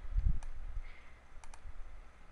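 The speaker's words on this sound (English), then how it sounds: "So I'm double clicking that layer" Computer mouse double-clicking while adjusting a layer in Photoshop: a few faint, sharp clicks in quick pairs over a quiet room, with a low bump near the start.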